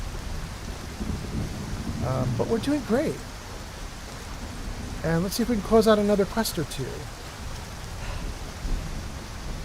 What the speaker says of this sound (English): Wow, that lightning is loud.